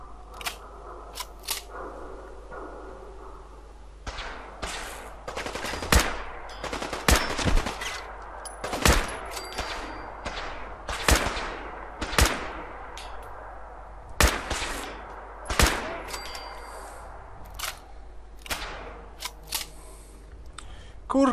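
Gunfire in the video game Fallout 4, sharp bursts of shots cracking out irregularly over a constant low hum, some rapid volleys and isolated bangs, loud and close, with a voice heard briefly.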